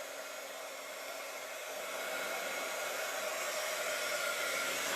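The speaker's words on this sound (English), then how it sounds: "Grab my heat gun. It's going to be loud, sorry." A heat gun blows with a steady, loud airy whoosh while embossing powder warms on a stamped card, and it grows a little louder partway through, with no one talking.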